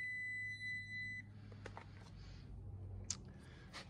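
Multimeter continuity beep, a single steady high-pitched tone lasting about a second, followed by faint clicks and handling noises.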